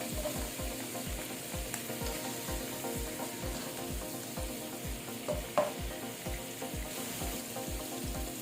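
Garlic and ginger sizzle in a hot pan, a steady close-up frying crackle with regular scraping stirs throughout and no talking.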